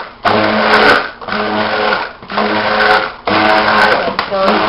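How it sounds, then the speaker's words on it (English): A stick blender runs in three long, loud, close bursts with brief pauses between them, whirring through cold process soap batter of honey, mint and vanilla until it emulsifies. "I'm going to mix this just until it's emulsified"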